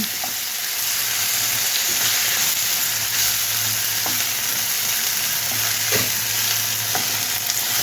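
Ginger garlic paste fries in oil in a pan for a potato and peas curry, giving a constant close, loud sizzle with occasional soft stirring scrapes.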